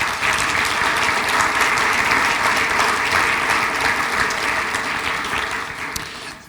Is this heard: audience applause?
yes